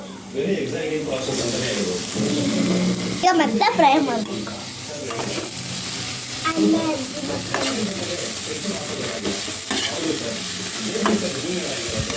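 Food frying and being stirred in a pan on a home stove, with a continuous sizzle and scraping stirs. A voice talks over it throughout.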